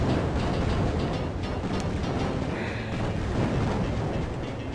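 Banshee missiles fire at ground targets in the PC shoot-'em-up Raptor: Call of the Shadows, making a loud, continuous, dense roar of blasts and rumble that never lets up, with no voices.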